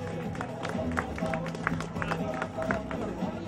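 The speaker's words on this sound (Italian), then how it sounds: "un altro applauso a questi atleti" Applause for half-marathon athletes at an outdoor race awards ceremony: a crowd's loose, scattered clapping carries on steadily at moderate volume, mixed with background chatter.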